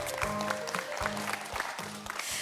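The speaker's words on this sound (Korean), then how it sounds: "응원의 박수 보내주시기 바랍니다" In a studio hall before a high school reading-debate final, the audience gives a short, even wash of applause. It plays over a pulsing background music track, and both carry on steadily for a couple of seconds.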